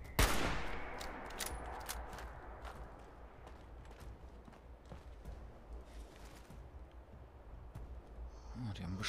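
Enemy raiders in Fallout 76 fire guns in scattered sharp cracks and short bursts, fairly quiet and mid-distance, after an opening loud blast, with someone talking over the gunfire.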